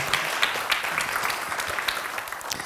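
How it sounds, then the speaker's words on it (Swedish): Audience applause at a conference session on care and welfare development, a brief burst of dense clapping with a few sharper individual claps standing out. "En applåd för dig."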